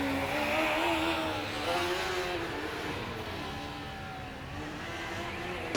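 A Formula Student race car drives through a tight horseshoe corner, engine droning and shifting pitch as it accelerates out, steady and moderately close, with no voices.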